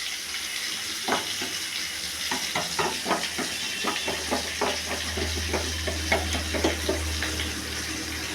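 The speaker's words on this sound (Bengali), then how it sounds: "এবার এটা নাড়াচাড়া করে দিই।" Spices for a soybean curry (soyabean dalna) are stirred in a sizzling pan, giving a continuous fry hiss with repeated scraping knocks of a spoon, while a low hum runs underneath through the second half.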